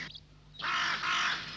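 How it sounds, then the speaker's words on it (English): Crows caw loudly and harshly in two long rasping calls, close and clear, with no voices over them. "Those crows. They're always up to their necks in the dirtiest places."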